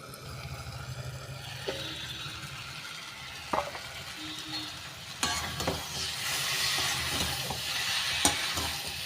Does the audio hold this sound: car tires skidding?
no